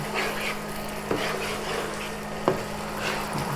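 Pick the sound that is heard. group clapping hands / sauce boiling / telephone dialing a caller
sauce boiling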